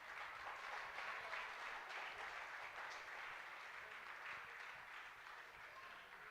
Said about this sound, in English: So another round of applause for all the children.